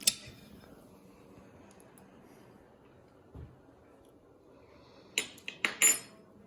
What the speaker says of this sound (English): So I'm gonna get my clean spoon out.